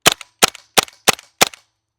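A GHK G5 gas blowback airsoft pistol fires five sharp, loud BB shots in quick succession, each crack followed by a short metallic rattle, then silence.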